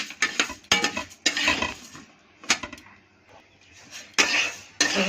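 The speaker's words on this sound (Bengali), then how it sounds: "কলাই ডালটা আমি একটু ভেজে নিচ্ছি।" Kalai (black gram) dal being dry-fried in a pan: bursts of loud utensil clatter and scraping as it is stirred, separated by brief quieter gaps.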